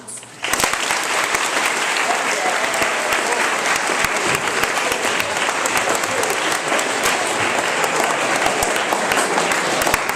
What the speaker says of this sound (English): So please welcome our guest with a round of applause.